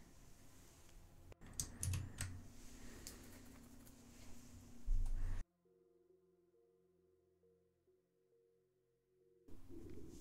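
Fast typing on a computer keyboard while entering a command in the Rust game console, a burst of close, quiet clicks that comes before a stretch of near silence holding a faint hum.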